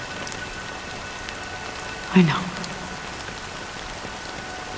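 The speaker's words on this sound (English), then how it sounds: "But it's still raining." Rain falls in a soft, even patter throughout in a video game, and a voice says a few brief words partway through.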